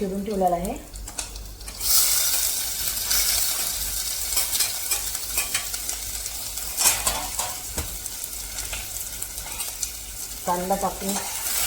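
Chopped onion with curry leaves and a green chilli sizzling in hot oil in a pot for dal khichadi, a steady close frying crackle with stirring and a spoon clinking against the pot, plus brief bits of background voice.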